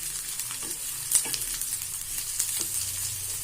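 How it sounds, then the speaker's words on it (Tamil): Dried red chillies sautéing in oil in a pan for garlic chutney, a steady close sizzle and crackle with occasional stirring scrapes, no talking. "நல்லா வதக்கிக்கலாம்."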